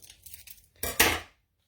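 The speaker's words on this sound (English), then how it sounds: "snip the top off." Brief rustling of a packet followed by two quick, crisp scissor snips cutting through plastic, close and clear.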